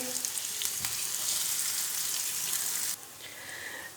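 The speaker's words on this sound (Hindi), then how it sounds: "अब इसके अंदर मैं डाल देती हूँ 1 बारीक कटा हुआ प्याज। अब प्याज को भी हल्का सा फ्राई करेंगे।" Finely chopped onion frying in a pan, a loud dense sizzle with a few stirring knocks that drops abruptly to a quieter hiss near the end, no one speaking.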